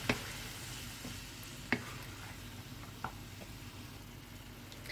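Turkey, bacon, peas and small vegetables cooking in a pan as they are stirred, a faint steady sizzle broken by a few soft spoon scrapes and taps.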